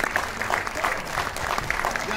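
An audience at a stage event in Haryana claps in a dense, continuous burst, heard close and fairly loud, with voices mixed into the applause.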